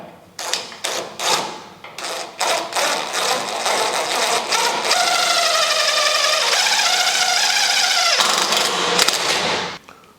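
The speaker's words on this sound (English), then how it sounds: "Okay, holes are drilled." Drill boring holes for a four-link suspension on a 1950 Chevy, short bursts of whirring at first, then a long sustained drilling run that stops near the end.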